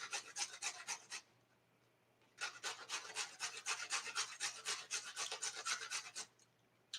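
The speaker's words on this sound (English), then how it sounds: "This box grater is getting a lot of work today." Beets being grated on a metal box grater, close and fairly loud: a quick burst of rhythmic rasping strokes, a pause of about a second, then a longer steady run of even back-and-forth scrapes with no talk.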